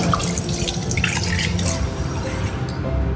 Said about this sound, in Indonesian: airnya jernih dan deras